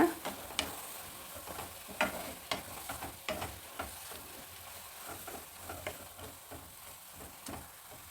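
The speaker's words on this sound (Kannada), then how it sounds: "ರುಬ್ಕೊಂಡಿರೋ ಮಿಶ್ರಣನ ಹಾಕಾಯಿತು ಈಗ ಸ್ವಲ್ಪ ಹುರಿಯೋಣ" Ground spice paste for a radish and curd curry frying in a pan, a soft steady sizzle broken by clicks and scrapes of stirring, fairly quiet and close with no talking.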